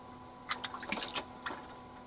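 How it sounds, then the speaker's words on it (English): Engine oil draining from the plug of a 2021 Jeep Wrangler JL into an oil pan, a faint, close trickle with a few soft drips and splashes. "So we're going to let it drain for a few minutes."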